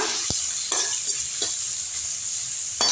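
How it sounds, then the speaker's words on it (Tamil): Onions and tomatoes sautéing in a pan for a fish curry, a steady close sizzle broken by several sharp scraping stirs of a utensil, with no voices. "நல்லா வதக்கி விட்ருங்க"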